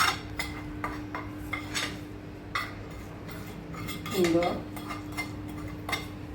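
A spoon scrapes and clinks against a steel pot while red chilli, garam masala, turmeric, coriander powder and salt are stirred together for Punjabi kadhi pakora, with irregular metallic taps and a steady hum behind, and someone talking over it.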